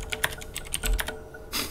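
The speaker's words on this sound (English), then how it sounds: "I just felt like typing bug as well." Fingers type on a computer keyboard in quick, uneven runs of close clicking keystrokes, with a brief pause before a final burst.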